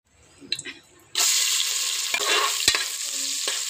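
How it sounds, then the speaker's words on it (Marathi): Whole spices hit a hot pan in a home kitchen: a few soft clatters, then a sudden loud, steady sizzle with scraping stir strokes running through it. "आता ह्याच्यामध्ये खडे मसाला घालते"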